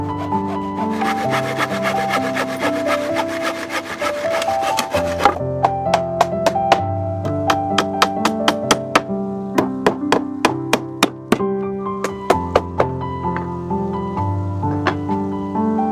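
Thick wooden planks are laid and fixed on a platform in a backyard build, with a long rubbing, sawing-like scrape followed by a series of sharp, regular knocks and taps, close and alone.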